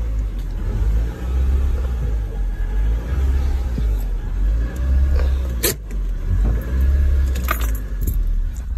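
A Mercedes-Benz Kompressor on 22-inch rims rumbles nearby with a steady low engine drone that swells and eases, and a few bright metallic jingles and clicks are scattered over it.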